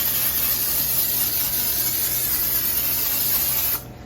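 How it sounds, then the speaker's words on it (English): A steady, close hiss of aerosol cooking spray onto a pan runs for several seconds, then cuts off abruptly. "we're going to spray our pan with some cooking spray"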